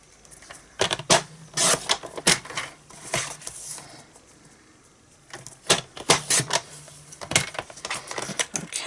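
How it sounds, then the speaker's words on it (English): Paper trimmer slicing paper for a gift box craft: a series of sharp, close scraping and clicking strokes in irregular bursts, separated by brief quiet gaps, with no talk. "And since we've got the trimmer, we'll just use that to cut it out."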